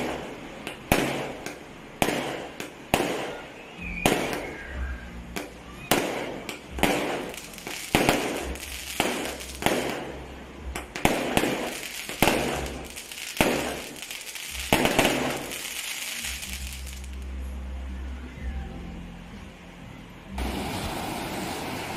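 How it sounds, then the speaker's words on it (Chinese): Fireworks set off on a beach at Yangxi at night crack and burst in a quick series of sharp, loud pops, one after another. Surf and wind rush underneath, and the bursts fade out toward the end. "在大城市好耐都未放过烟花啦，今晚过下手瘾先"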